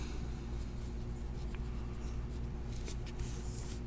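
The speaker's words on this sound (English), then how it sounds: "I'm going to write all over the cards so my peoples know where to send it." A pen scratches over 2017 Illusions football trading cards, steady and faint over a low background hum, with no talking.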